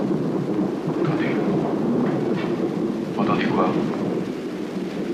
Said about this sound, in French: J'entends le bruit du tonnerre et la pluie, oui.